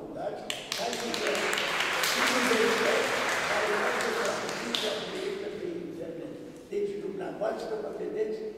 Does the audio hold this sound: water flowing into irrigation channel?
no